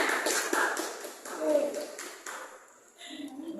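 Students clapping in a classroom after a group presentation, a burst of quick overlapping claps fading out, followed by voices speaking.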